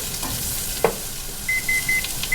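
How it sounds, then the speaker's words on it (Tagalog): Green papaya fries in a pan for tinolang tahong, a steady close sizzle with a brief stirring scrape and a few short electronic timer beeps near the end. "So let's cook the papaya first."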